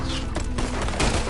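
Gunfire in Red Dead Redemption 2: a steady fusillade of loud, close shots, with sharp bursts cracking out of a constant, dense battle din.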